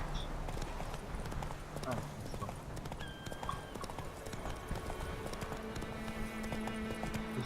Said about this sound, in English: Just press X and the horses will come to you